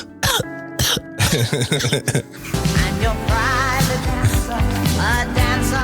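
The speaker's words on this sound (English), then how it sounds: "Oh, coughing." A burst of harsh coughing and throat clearing up close, followed by music playing steadily.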